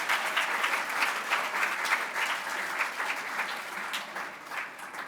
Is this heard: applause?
yes